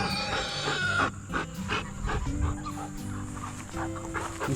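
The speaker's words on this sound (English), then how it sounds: "These chocolate Morans, you want a crowing rooster, they'll do some crowing." Chocolate Marans rooster on a homestead crowing amid clucking hens, a moderately distant, drawn-out call rising over the flock's background chatter.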